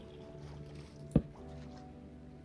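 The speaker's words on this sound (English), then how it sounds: "Stop making all that splashing noise, fish." A fish in a modded Minecraft game makes one short, sharp splash over quiet, steady background ambience. No one speaks.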